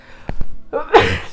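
One person sneezes loudly and close by, preceded by a couple of sharp catching breaths.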